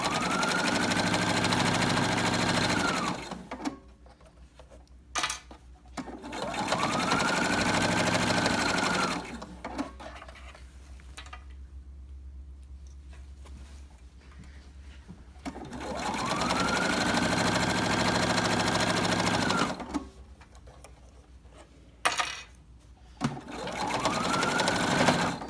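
Sewing machine stitching a dust cover for a Cricut Maker, long loud runs of rapid mechanical whirring broken by short pauses, close up with no voices.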